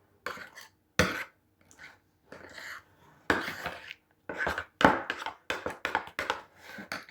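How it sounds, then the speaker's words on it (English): A knife chopping raw vegetables on a board while preparing Christmas snacks, with irregular clusters of sharp knocks and scrapes separated by short silences, the strokes speeding up toward the end. "And then I'm going to chop the veggies."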